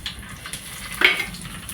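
Whole spices with mustard seeds and cumin sizzle in hot oil for tempering ragda, a soft steady frying hiss with a brief sharper crackle about midway.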